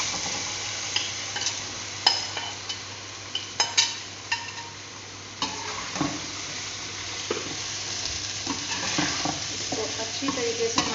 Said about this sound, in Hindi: अब हम इसके अंदर पोटैटो ऐड कर देंगे।